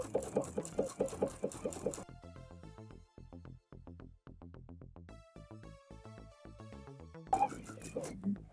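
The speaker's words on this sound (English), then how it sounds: "I'm going to add my first row of stitches 1/4 inch away from the top edge." A sewing machine stitches a basting row a quarter inch from the top edge of fabric, its rapid rhythmic needle clatter running in steady bursts with brief pauses, while someone talks at the start and end.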